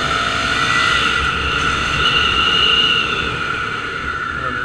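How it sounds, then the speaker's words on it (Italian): A Ducati Scrambler 800 motorcycle engine pulls under load while riding, a steady droning note mixed with heavy wind rush, close and loud. "Il motore spinge bene fino appunto a 6000 giri"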